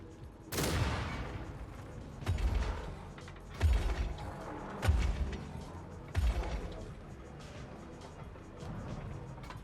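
A tank in the video game The Forever Winter fires repeatedly at an enemy, five or six heavy booming shots spaced a second or two apart, each with a sharp crack and rumbling tail over background battle ambience.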